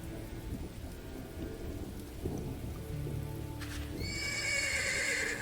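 Nervous horses whinny in the video game Ash of Gods as they approach wolf carcasses on a road. One shrill neigh rises near the end over steady rain, distant thunder and hoof shuffling.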